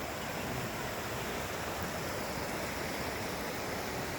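Floodwater flowing after heavy night rain, a steady broadband rushing roar like a stream or torrent, continuous and fairly loud throughout with no voices.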